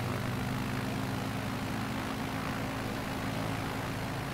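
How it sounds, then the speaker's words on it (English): Steady, loud propeller airplane engine drone heard from inside the cabin in flight, a constant broadband roar with a low humming tone and no breaks. "now we are going to land the plane."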